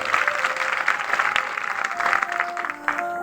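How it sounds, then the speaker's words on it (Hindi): Audience applause at a Guru Ravidas katha gathering: dense, energetic clapping from a crowd, continuous and fairly loud, with a faint tone ringing beneath it. "प्यारे भक्तों, जोरदार तालियों से स्वागत।"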